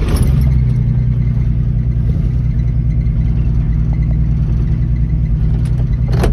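A classic Ford Mustang with a C4 automatic transmission runs steadily, its engine holding a loud, constant low rumble close by with no talk over it.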